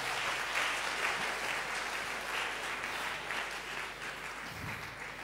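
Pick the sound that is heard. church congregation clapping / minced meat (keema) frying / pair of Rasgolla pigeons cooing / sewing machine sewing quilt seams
church congregation clapping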